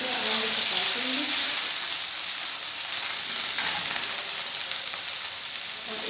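Peshawari chapli kabab fries in hot ghee oil, giving a loud, dense, even sizzle throughout with a brief gurgling bubble near the start and no talking.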